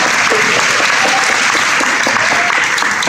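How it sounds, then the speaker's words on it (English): Sustained, dense audience applause at a high school assembly welcoming Gary Cardone, loud and close throughout, with a scattered whoop or two rising from the crowd. "let's give a round of applause to welcome Gary Cardone"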